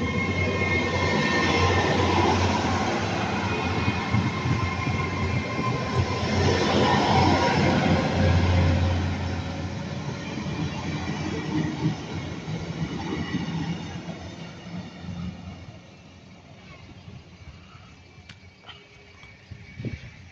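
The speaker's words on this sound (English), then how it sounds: "802007 on the delayed 1746 service to Penzance from Cardiff Central." Class 802 train 802007 on a delayed evening service from Cardiff Central to Penzance rolls through a station, its steady rumble and wheel noise loud at first, then gradually receding and fading out.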